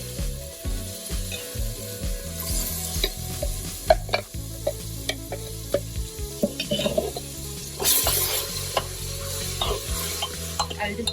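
Tomato puree fries with browned onions in a pan, a low sizzle broken by scraping stirs and clanks, under steady background music.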